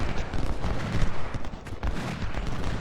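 Continuous battle gunfire from the Civil War strategy game Ultimate General: Civil War, a dense rolling clatter of many muskets firing together with heavier thuds mixed in, steady and unbroken throughout.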